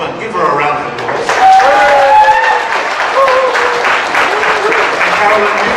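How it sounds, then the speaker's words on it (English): An audience claps in a loud, sustained round of applause, with cheering or whooping voices rising over the clapping and people talking through it. "Give her a round of applause."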